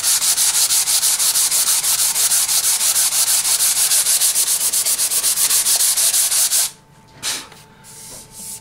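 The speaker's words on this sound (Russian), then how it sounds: "И после этого мы ее просто шлифуем." Dried wood filler is sanded by hand in quick, loud, rhythmic back-and-forth strokes that give a continuous rasping hiss, then stop abruptly and leave a few softer rubs.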